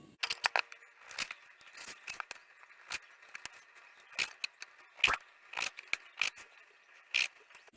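A knife slices meat against the grain for jerky, trimming away fat along the way, giving a series of short, crisp cutting strokes in an irregular rhythm, close and fairly quiet, with no talking.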